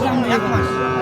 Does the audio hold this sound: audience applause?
no